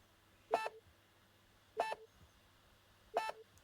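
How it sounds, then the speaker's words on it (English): Three brief 440 Hz electronic beeps, evenly spaced about a second and a half apart, each one clean and identical over a faint low hum. "When you click, you also hear a 440 Hz beep sound like a click confirmation"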